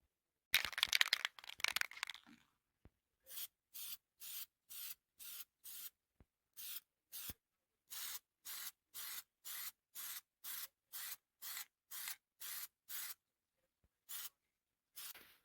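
John Deere green spray paint hisses from an aerosol can in a quick rattling burst, then in a long series of short, evenly spaced sprays separated by silent gaps, close and fairly quiet.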